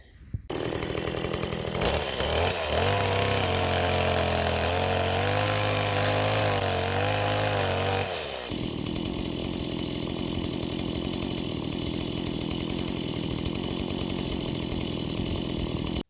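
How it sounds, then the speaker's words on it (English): A chainsaw sputters to life in Kentucky woods and then roars steadily at close range cutting wood. Its engine note shifts partway through, then keeps running loud and unbroken to the end. "let's see if I can even get the chainsaw started."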